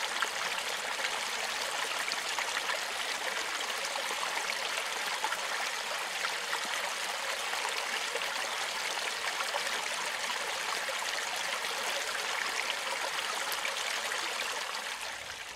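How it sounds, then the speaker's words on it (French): A forest stream runs steadily at night, its broad, even rush of flowing water continuous and close throughout, with no voices. "pour finir le bruit du ruisseau"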